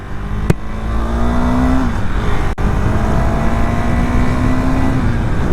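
KTM Duke 390 motorcycle engine with about 24,887 km on it, revving loudly and steadily close by, the pitch rising and holding before a brief dip and then settling into a sustained drone.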